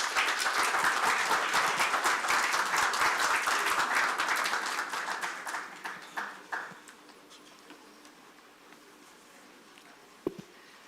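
An audience at a memorial tribute gathering claps warmly, with dense sustained applause for several seconds that thins out into scattered claps and fades to near silence.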